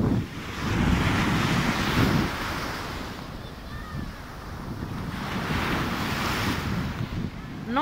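Atlantic Ocean surf at Angeiras Norte beach in northern Portugal washes in broad, loud swells, rising and easing twice, with wind buffeting the microphone throughout.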